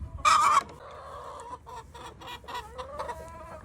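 Farm chickens cluck in short, scattered bursts with one loud squawk at the start, heard close by during morning homestead chores.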